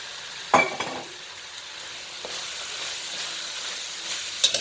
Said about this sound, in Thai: ถั่วที่เราหั่นไว้แล้วนะครับ ใส่เลยครับ ใส่เข้าไปเลยเลย